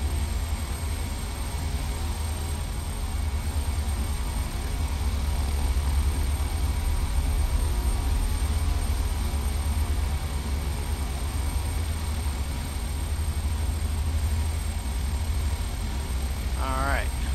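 A Beechcraft King Air 350 taxis toward the runway in Flight Simulator X, its turboprop engines producing a steady, even drone with a low hum that holds without change throughout.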